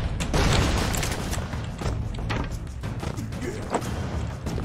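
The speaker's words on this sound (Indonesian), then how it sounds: "Meledak." A loud, dense burst of booming impacts and crackling blasts from the video game Broforce, with a sustained rumble and scattered thuds continuing throughout.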